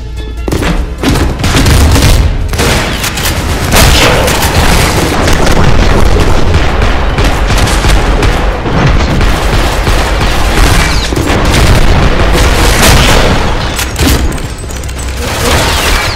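Grenades detonate one after another in the game Maximum Action, a loud, dense barrage of booming blasts and gunfire that crowds the whole stretch with scarcely a pause.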